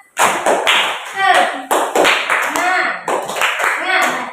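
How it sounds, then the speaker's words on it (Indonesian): A class of sixth graders and their teacher perform a rhythmic spirit clap, sharp clustered hand claps in patterned bursts, with voices chanting along between and over the claps. "Tepuk semangat, lihat dulu contohnya."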